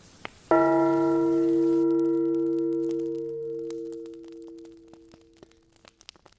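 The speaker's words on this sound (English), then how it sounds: "He spoke before the hour bell sounded, which it did now with a deep, dull, hollow melancholy." A deep, dull, hollow hour bell strikes once after a faint tick. The single loud stroke hums on and slowly fades over several seconds in a quiet room.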